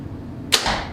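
A single shot from a 2011 Mathews Z7 Magnum compound bow: a sharp, close thwack as the string releases, followed by a brief airy whoosh that fades quickly.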